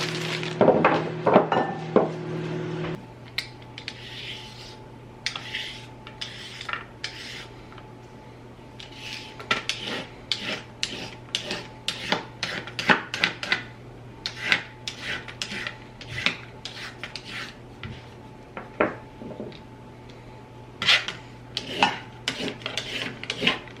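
Carrots being peeled and sliced at home for dinner: steady rasping scrapes of a peeler, then repeated knife chops and thunks on a board, close and clear with no talking, over a low steady hum.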